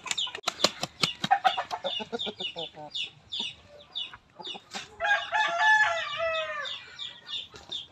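An Aseel rooster crows loudly nearby amid rapid clucking and a brief flutter of wings, with other chickens calling in the background.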